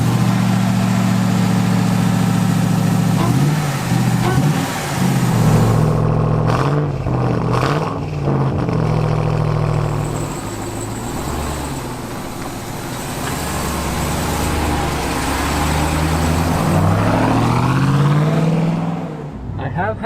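A 2021 Ram TRX pickup with a 702-horsepower engine rumbles loudly and continuously, its deep idle and revs rising and falling over about twenty seconds while a person talks over it.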